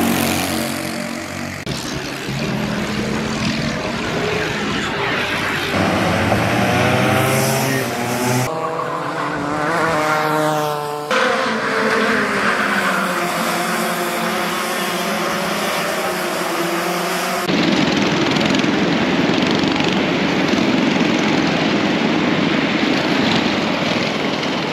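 Racing karts accelerating out of a series of corners at the Warden Law kart track in Britain, engines whining and droning loudly as they pass in overlapping waves, with a constant buzzing roar and no speech.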